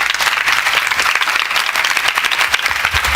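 A lecture-hall audience claps together in loud, sustained applause, a continuous wash of hand claps with a few sharper close claps near the end.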